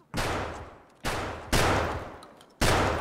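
Gunfire from a weapon in the video game Escape from Tarkov: four loud, close bursts, each a sharp attack with a long decaying tail, spaced irregularly with no talk over them.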